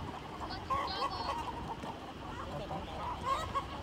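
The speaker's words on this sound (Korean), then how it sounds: "닭 소리 들려?" A flock of chickens sits out on a road, clucking and calling in scattered bursts at moderate distance, with soft background noise throughout.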